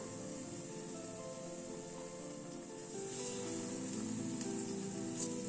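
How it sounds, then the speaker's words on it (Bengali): Batter-coated potato slices frying in hot oil over a lowered gas flame, a steady broadband crackle and hiss that swells slightly louder midway, with a few sharper pops near the end and no talking. "এক্সেস ব্যাটারটাকে একটু ফেলে দিয়ে তেলে দিয়ে দিলাম"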